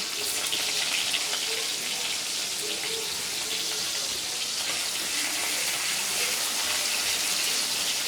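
Chopped onion hitting hot oil already tempered with cumin seeds sizzles in a steady, even hiss that holds for the whole stretch, close and loud, with no voices over it.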